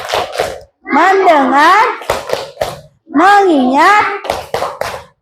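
Children in an Indonesian Islamic religious education class play the 'tepuk fokus' clap game, with sharp rhythmic bursts of unison hand claps alternating with a teacher and kids chanting words aloud.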